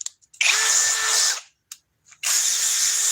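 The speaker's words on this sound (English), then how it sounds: "this is a woodworker's drill" A woodworker's power drill revs in two loud, close bursts, first for about a second, then again after a short pause, with a faint click between.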